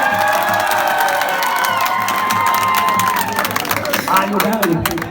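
A large crowd at an outdoor village rally in Punjab claps and cheers loudly and steadily, a dense wash of applause with shouts, while a voice over a loudspeaker continues underneath.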